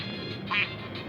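A duck quacks in a survival video game, one short nasal quack rising briefly over a steady background of game noise.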